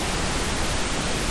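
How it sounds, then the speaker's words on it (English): A steady pink noise test signal hisses evenly and continuously, broadband and unchanging, with no other sound present. "here on the pink noise."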